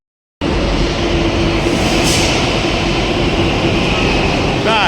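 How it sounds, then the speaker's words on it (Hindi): A Delhi metro train roars into the station with a loud, steady rumble and a rising whine, near and continuous after a brief silent start. "ये आ गए हम मेट्रो स्टेशन।"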